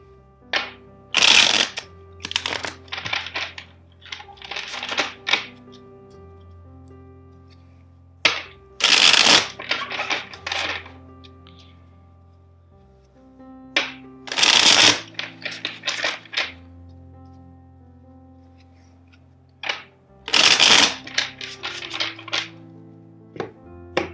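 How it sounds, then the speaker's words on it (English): A deck of tarot cards is riffled four times, each burst a sharp fluttering rush, with softer tapping and squaring of the cards in between. "First, let's shuffle the deck four times for you."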